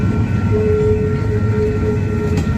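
A train rolls past at close range near the Robert Street lift bridge in St Paul, Minnesota, a steady loud rumble of railcars with a sustained horn-like tone running through most of the stretch.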